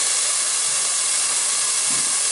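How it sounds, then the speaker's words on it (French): Hot pan deglazed with white rum while cooking shrimp, releasing a loud, constant hiss of sizzling and flash-evaporating liquid that holds steady for a couple of seconds, with no talking. "on va ajouter le rhum blanc, on déglace avec, il s'évapore quasiment instantanément"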